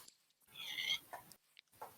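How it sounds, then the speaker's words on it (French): Pig squeals and grunts from pigs being killed in Minecraft, a short burst of shrill squealing followed by two brief grunts with quiet gaps between, moderately loud and with no talk. "je t'entends tuer du cochon"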